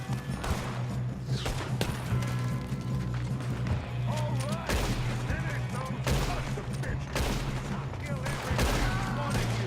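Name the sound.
gunfire in Red Dead Redemption 2 video game shootout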